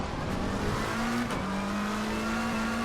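Race car engine in Assetto Corsa Competizione, running laps on 24.4 psi tyres with stock setup, holding a steady loud drone with a rising pitch as it accelerates, no talk over it.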